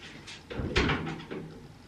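An indoor door is opened with a close, clunky latch and swinging thud, followed by a softer knock as it settles.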